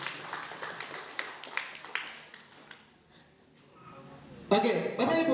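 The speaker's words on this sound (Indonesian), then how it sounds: "Tepuk tangan untuk Ibu semua" Applause from an audience in a mosque hall, a burst of claps that dies away halfway through, then a voice begins speaking loudly over the room.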